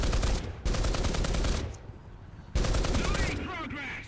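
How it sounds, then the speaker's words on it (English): Tank machine guns firing in War Thunder ground forces, with an IS-2 tank in the battle: two long, loud, rapid bursts of automatic fire separated by a short pause, the second followed by a fading echo. "one of the other uses of these machine guns on the tanks is to indicate to friendlies where the targets"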